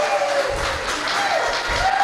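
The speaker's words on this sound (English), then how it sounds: "can they get a round of applause for how amazing they look?" Wedding guests applaud and cheer for the bride and groom during the speeches, a lively, close burst of clapping with scattered cheers and a few low thumps throughout.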